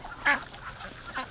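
Ducks quacking by a lake, a loud nearby quack followed by a few softer, scattered calls.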